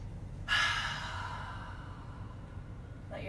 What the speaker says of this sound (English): Just breathing in here.